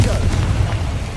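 A Confringo blasting spell explodes in the Hogwarts Legacy video game: a loud, deep, rumbling boom that fills the whole short moment with steady low-end roar.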